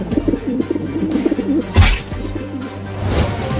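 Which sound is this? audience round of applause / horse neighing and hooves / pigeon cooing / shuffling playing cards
pigeon cooing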